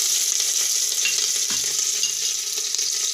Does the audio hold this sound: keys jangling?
no